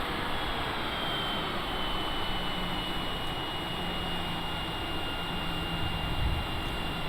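A Cessna Citation jet on landing approach gives a steady, broad roar of engine and airflow inside the cockpit, constant throughout with no talk.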